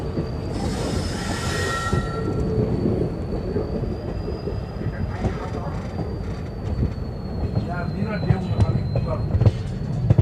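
An Indian Railways train rolls into a station platform, wheels rumbling steadily with a thin drawn-out squeal and clanking, while people talk nearby.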